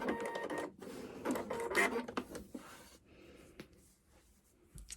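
A sewing machine runs back and forth on a dress seam, backstitching with a few short bursts of whirring and clicking that fade to quiet at the end.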